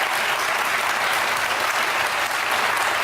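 A TV studio audience claps steadily and fairly loudly throughout, a dense, continuous wash of applause with no pauses.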